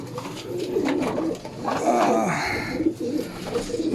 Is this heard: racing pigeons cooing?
yes